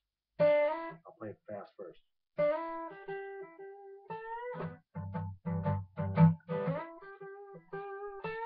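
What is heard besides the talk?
electric guitar string bend riff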